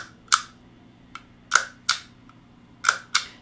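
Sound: guitar freeze pedal switch clacking

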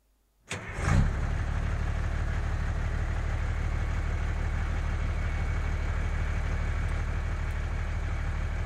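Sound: engine starting, sound effect in a role-play session

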